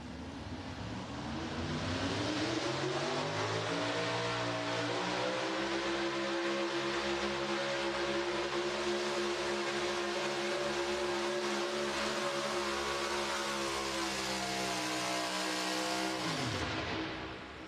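A loud, sustained roar from a Ford pulling truck at a truck and tractor pull in Kansas City, engine straining steadily for about fifteen seconds with the clutch slipped before cutting off abruptly near the end.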